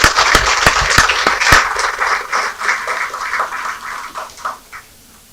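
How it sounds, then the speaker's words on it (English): A round of applause at a student interactive programme in an Indian degree college, dense hand claps at the start that thin out and fade over a few seconds. "a round of applause for Dr."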